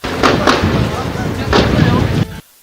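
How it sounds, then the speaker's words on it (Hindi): Gunshots during clashes between crowds and the Pakistani army, several sharp loud cracks in irregular succession with noisy outdoor background, ending abruptly. "इस दौरान वहां गोली चलने की आवाजें भी सुनाई दी।"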